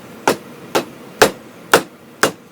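Five sharp, evenly spaced knocks from a tapping block seating the flywheel onto the crankshaft of a 1962 Johnson 3 HP outboard motor, close and crisp with brief decay.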